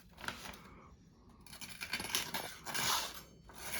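A freshly sharpened knife with an unrefined edge tears and saws through paper, giving rough scratchy rasping strokes in several bursts that swell and fade, close up, with faint room noise between.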